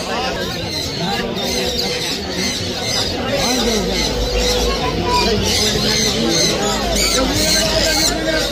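Squawks from a yellow-sided conure ring out at a crowded pet bird market in Kolkata, harsh repeated calls layered over a loud babble of many birds and nearby human chatter.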